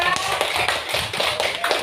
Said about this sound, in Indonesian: ya kita kasih tepuk tangan dulu untuk kelompok 2.